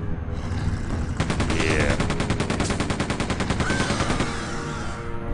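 Rapid automatic gunfire in Quake 2: The Reckoning, a sustained burst of machine gun rounds at an even rhythm, loud and close, with shotgun blasts, over game ambience; a voice speaks one brief word.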